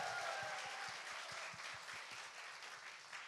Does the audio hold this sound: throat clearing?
no